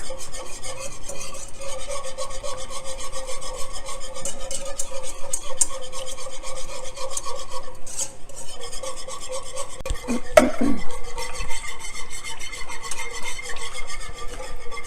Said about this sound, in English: Never stop whisking and slowly add your coconut milk.